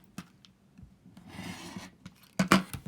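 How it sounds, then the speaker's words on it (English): A rotary cutter trims a fabric quilt block along a ruler, with a few light taps followed by a soft rasping cut and a louder scrape at the end, close and quiet. "I'm going to trim the opposite 2 sides"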